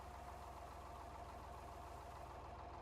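A tractor engine idles in the farming video game Farming Simulator 25, a steady low rumble with a faint rhythmic knock and a thin tonal whine, quiet and even throughout, with no talk.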